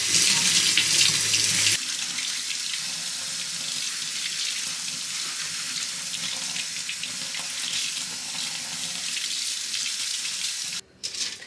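Tap water runs steadily into a sink as cauliflower is washed, a loud continuous splashing rush from start to finish, briefly harder at the start and cut off near the end.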